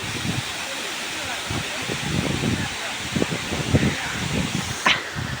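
The Ham Ham waterfall in Sreemangal pours with a steady, broad rushing roar, while nearby voices talk intermittently over the continuous water noise.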